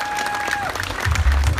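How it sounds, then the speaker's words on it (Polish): An audience at a Polfarmex Kutno basketball team presentation claps for a player, a short burst of applause that swells near the end, with a voice over the start. "Wielkie brawo dla Jacka, moi drodzy."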